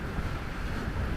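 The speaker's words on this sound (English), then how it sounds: "it's windy out here" Steady wind gusts by the Lake Michigan shore buffet the microphone with a continuous low, rough rush and no clear breaks.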